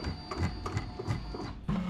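An embroidery machine sews a placement stitch on a hat for twill applique, giving a quiet, rapid mechanical chatter of needle strikes in uneven bursts, with a brief whirring shift near the end; no talking.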